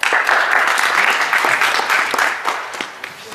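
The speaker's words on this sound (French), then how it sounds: "Il y a de moins en moins d'applaudissements." Applause from an audience at a children's school play as team members are called up, a close, dense patter of many hands clapping that thins and fades toward the end.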